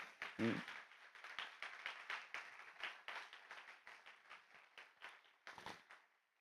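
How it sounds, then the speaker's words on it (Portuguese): Congregation at a pastoral ordination service in a church clapping for a pastor: a dense, irregular patter of many hands, moderately close, rising briefly and then fading out at the end. "Você pode aplaudir o pastor Tomás?"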